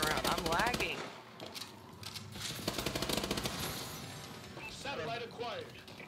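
Rapid automatic gunfire from a multiplayer shooter match on the Biolab map, bursts rattling close and loud throughout, with players talking over the shots.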